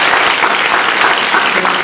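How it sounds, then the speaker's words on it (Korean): Audience applause at a live talk event in a cinema, dense, steady clapping throughout with no voices over it. "큰 박수 부탁드립니다."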